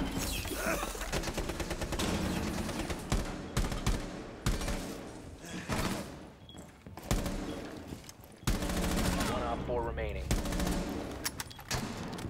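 Rapid automatic gunfire from a heavy-recoil Caviar rifle in a 2v1 custom match of an online shooter, sharp bursts repeating across the stretch with brief gaps, loud and close, with voices talking over parts of it.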